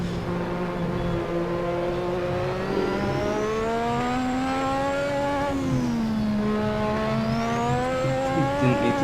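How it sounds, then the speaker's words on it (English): A racing car in Assetto Corsa, driven flat out with a turbo whine, its engine droning and rising and falling steadily through the gears. Faint tyre noise runs underneath, with no voices. "Have I mentioned that I really like driving this car?"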